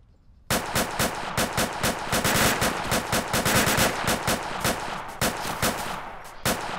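Sustained automatic fire in Arma 2 starts abruptly after a quiet moment, then continues as a steady rapid stream of close, loud shots with slight pulsing bursts to the end.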